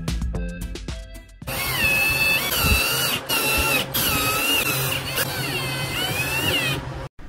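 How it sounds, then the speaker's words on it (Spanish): A power drill bores holes and drives screws into wood while a homemade electric saw is assembled, the motor whining loudly in long sustained runs with brief pauses, no voices. "haremos una serie de perforaciones y luego instalaremos cada uno de los tornillos"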